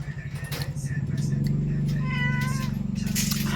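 A Persian cat meows loudly and close, one drawn-out rising and falling cry over a low rumbling background, with a voice briefly heard alongside.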